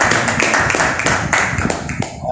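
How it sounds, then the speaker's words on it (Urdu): A church congregation at a Father's Day service claps for the fathers, loud, dense and sustained applause filling a room for about two seconds, with a few voices mixed in. "تو فادرز کے لیے ہم تالیاں بجائیں گے"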